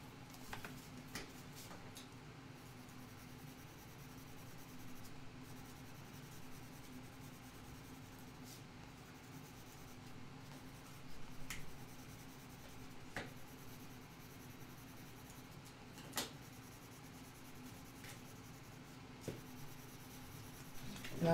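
A marker works across paper during craft coloring for a holiday mini album, a quiet steady scratchy rubbing with occasional faint ticks and taps, close and alone without talk.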